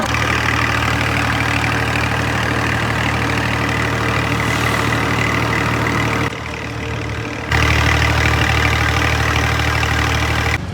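A tractor engine idles in a steady low rumble. It dips briefly and then carries on slightly louder, close by and with no one talking.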